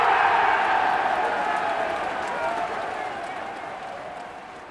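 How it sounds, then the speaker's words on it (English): An audience claps for a guest at a talk on women's sport and psychology, a dense wash of applause that starts strong and gradually fades. "big round of applause for my next guest"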